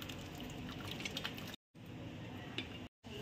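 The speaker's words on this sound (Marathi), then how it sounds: "डाळ टाकून घेते" Chana dal poured into a kadhai of fried spices and oil makes a wet, squishy liquid pour with soft splashes, steady and close, broken by two brief dropouts.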